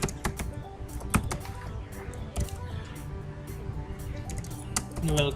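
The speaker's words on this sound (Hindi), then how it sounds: "मैं वर्ड पे टेक्स्ट एक लिखता हूँ, मैं लिखता हूँ वेलकम" Fingers type text into Word on a computer keyboard, producing quick, close, irregular key clicks with a few louder taps, over a faint background hum.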